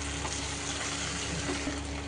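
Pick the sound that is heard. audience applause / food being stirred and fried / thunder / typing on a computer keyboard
food being stirred and fried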